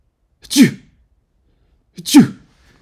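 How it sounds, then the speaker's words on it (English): A person sneezes twice, each one a sharp, loud burst with a short breathy intake, separated by about a second and a half of silence. "Achoo! Achoo! Achoo! Achoo! Achoo! Achoo! Achoo! Achoo!"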